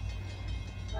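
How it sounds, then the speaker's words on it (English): New Jersey Transit train hauled by an F40PH-3C locomotive arrives at Anderson Street Station, a steady low diesel rumble with rail noise, close and continuous for a brief moment. "Here comes the next train,"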